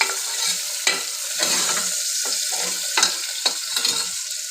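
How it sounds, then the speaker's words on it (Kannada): Onions roasting in hot oil in a pan for a ridge gourd sambar, with a steady close sizzle and several sharp spatula stirs and scrapes against the pan, no voices. "ಈರುಳ್ಳಿ ಹಾಕಿ ಅದು ಚೆನ್ನಾಗಿ ರೋಸ್ಟ್ ಮಾಡಿ"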